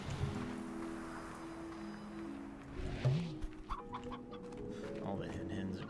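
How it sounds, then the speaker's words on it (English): Hens cluck in the desert area of the video game Slime Rancher, several short overlapping clucks over continuous game ambience and background music, with no voice. "All the hen hens are out now."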